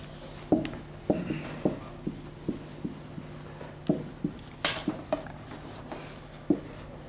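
Someone writes on a board during a German lecture on alloy science. The writing makes a steady series of crisp taps and short scratchy strokes, close and clear, with no talk over it.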